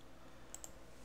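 Two quick, faint computer mouse clicks land close together at a Linux desktop, crisp and small against a quiet room hum.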